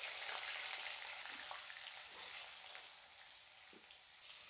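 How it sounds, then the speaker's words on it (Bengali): Potatoes dropped into hot oil with a dried red chilli tempering for a vegetarian Bengali fish-style curry, giving a steady, close hiss of frying and sizzling throughout with faint clinks, no talking. "তো আমি এবার আলুগুলো দিয়ে দেবো।"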